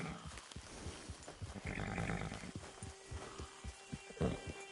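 Horse clip-clopping in Red Dead Online, a series of moderate hoof steps at an irregular gait over a low ambient hum, with no talk.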